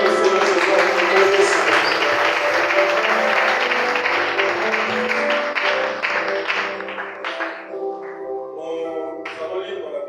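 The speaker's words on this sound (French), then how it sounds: "Est-ce que quelqu'un peut acclamer pour le Seigneur ce soir?" A church congregation at a Friday evening service claps and cheers for the Lord, a loud, steady wash of applause that fades to scattered claps and voices near the end.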